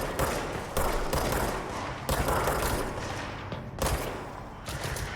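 Dense, continuous gunfire from the video game Control, with heavy overlapping bursts and booms that fill the whole stretch and never let up.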